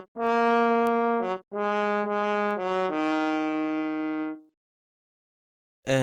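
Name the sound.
horn sample from Sinful Orchestra library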